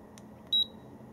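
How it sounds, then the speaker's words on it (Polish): A single short electronic beep from a Hama Liquid Image EGO action camera as a function starts, clear and high-pitched, over a quiet background hum. "piknięcie oznacza, że uruchomiliśmy jakąś funkcję"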